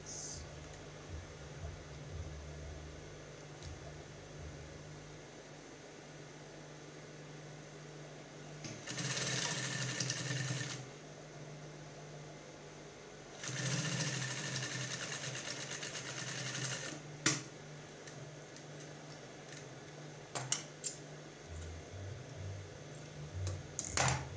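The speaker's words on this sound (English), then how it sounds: "I'm going to sew it." A sewing machine stitching cup and boning on a corset runs in two loud bursts of several seconds each, with quieter pauses, faint handling noise and clicks between them.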